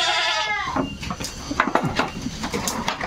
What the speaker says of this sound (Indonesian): tuan-tuan kambing datang, tuan-tuan kambing